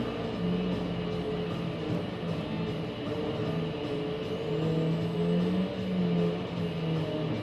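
A Mitsubishi car engine in Gran Turismo 7 drones steadily, a constant mid-level hum with a few slight rises in pitch.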